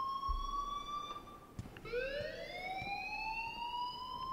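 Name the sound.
alarm going off in Life Is Strange video game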